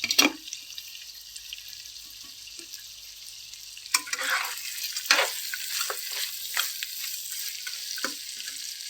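Chicken fry cooking in a pan at a food stall, a soft sizzle with a lid or utensil clatter at the start, then scraping stirs and bursts of louder frying hiss.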